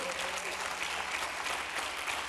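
Church congregation clapping steadily as a dense, even wash of applause that holds at one level throughout, fairly close, with no voices over it.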